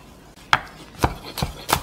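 Knife slicing through rolled perilla leaves on a wooden cutting board, four crisp, evenly spaced thuds close up with a faint leafy crunch on each cut.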